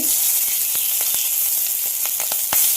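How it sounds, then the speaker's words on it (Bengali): Rice grains frying and sizzling in a pot of oil for biryani, a steady loud hiss with scattered crackles and a few scraping stir strokes. "আর আমি এটাকে ভালোভাবে নেড়ে কয়েক মিনিট ভেজে নিব"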